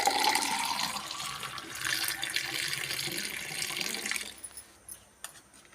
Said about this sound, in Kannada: ಪೈನಾಪಲ್ ಕ್ರಷ್ ಹಾಕ್ತಾ ಇದ್ದೀನಿ.